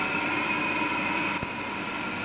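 An irrigation pump runs steadily at a mechanical pumping station, giving a loud continuous drone with a faint tonal whine and one brief knock.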